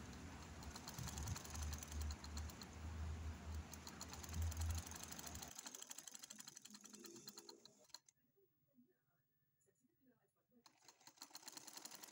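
A sewing machine stitches a gamis sleeve in a rapid, steady mechanical whir for about five seconds, then stops, and a person talks afterward.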